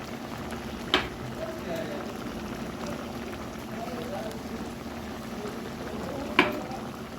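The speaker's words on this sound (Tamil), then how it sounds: "மூடி வச்சு வேகட்டும்." Bottle gourd boils in a covered pot, giving a steady low bubbling simmer throughout with two brief sharp clinks, and no talk over it.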